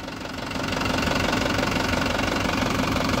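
A tractor engine runs loud and steady with a knocking rumble as a sugarcane planter with a 28-inch, four-tine leveller is stuck in a field, the wheel lifted, the sound close and continuous.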